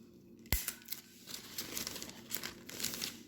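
Adhesive tape is pulled and torn off with a sharp snap, followed by faint crinkling and rasping of the tape being handled nearby.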